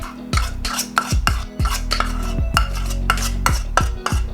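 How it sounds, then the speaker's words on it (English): A spatula or spoon scrapes and taps against a bowl in repeated strokes while folding melted chocolate into cake batter, each followed by a ringing resonance, close and steady without talk. "Fold in the melted chocolate."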